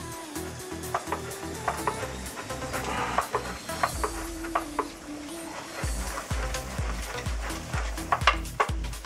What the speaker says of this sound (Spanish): Apago el fuego y vengo con el rallador y el queso.